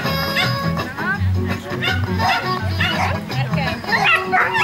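Dog barking and whimpering at a dog school birthday party event, yips and bow-wows repeating over steady crowd chatter and voices throughout.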